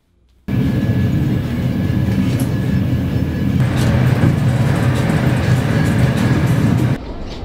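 Steady rumbling of a passenger train in motion on an Italian rail journey to Milan, a loud continuous low-frequency roll with faint rattles, no talk.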